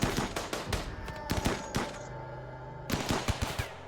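Enemy guns fire in the colony-survival game RimWorld: a rapid run of sharp, crackling shots in quick bursts, a brief lull, then another cluster of close, loud shots.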